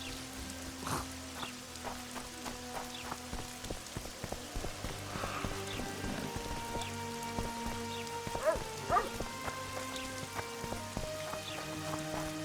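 Rain falls in the fantasy video game The Witcher 2 as a soft, steady patter of drops on surfaces with scattered clicks and faint buzzing tones, all fairly quiet with no speech.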